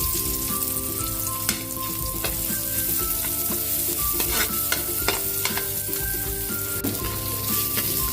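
Garlic and onion sautéing in a pan, a steady loud sizzle broken by repeated clinks and scrapes of a utensil stirring, with no talking.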